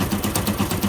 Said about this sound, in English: There's a knocking noise coming from it.